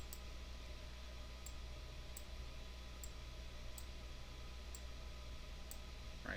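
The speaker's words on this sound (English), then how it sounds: "Let's just click all of those." Computer mouse clicking at a desk, faint single clicks spaced evenly about every second over a steady low hum.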